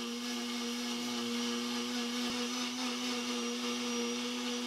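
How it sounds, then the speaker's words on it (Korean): A small shop's blender whirs steadily as it blends fresh deodeok root with milk into a juice, a continuous close motor drone with a constant pitch that stays loud and even throughout. "가게 주인 남자가 비닐봉지에서 더덕을 꺼내 우유를 넣고 믹서에 간다"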